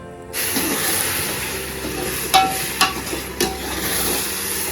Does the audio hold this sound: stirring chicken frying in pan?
yes